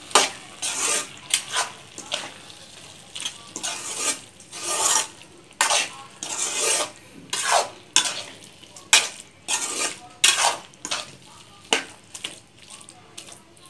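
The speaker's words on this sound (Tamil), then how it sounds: "கொஞ்சம் கிளறி விடலாம்." Boiled cowpeas are stirred while frying in a pan: a faint sizzle runs beneath a regular series of loud, close scraping strokes of a spatula against the metal, repeating every second or so.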